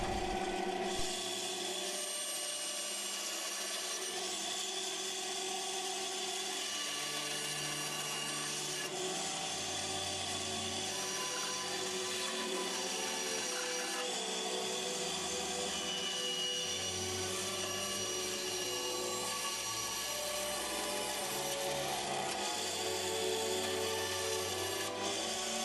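A bandsaw roughly cutting a wooden spacer for a clock wheel, a steady broadband rasping whine that runs continuously and loudly throughout, with no talk.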